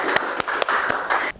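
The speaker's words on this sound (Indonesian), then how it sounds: "Boleh minta tepuk tangannya ya?" Scattered applause from a small gathered audience at a bank branch event in Semarang, steady hand claps over about a second with a few sharper individual claps standing out before cutting off.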